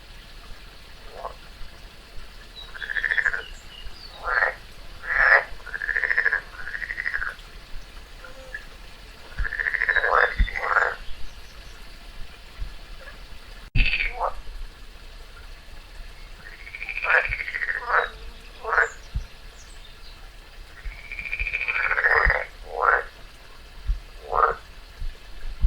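A frog gives repeated short, nasal croaks in irregular bursts while a garter snake swallows it in the wild, the calls close and fairly loud over a faint background hiss.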